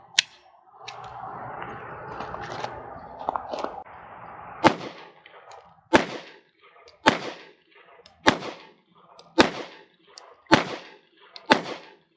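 A Strike Industries Strike 80 pistol fires 124 grain XTP rounds, several sharp, loud shots at a fairly even pace after a stretch of handling noise.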